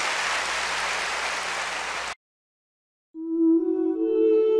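A church congregation claps in a broad, steady burst for about two seconds, then falls silent before soft sustained musical tones begin.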